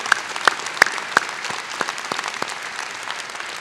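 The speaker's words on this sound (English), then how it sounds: "Round of applause." Scattered claps ring out across a graduation hall at an IU School of Dentistry ceremony, a few sharp loud hits up front over a thinner, steady patter of applause from a seated crowd.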